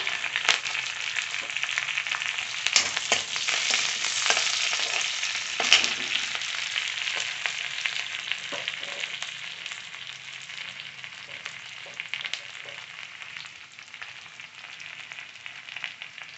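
Curry leaves crackle and sizzle loudly in hot oil in a steady stream of bright frying noise with scattered sharp pops.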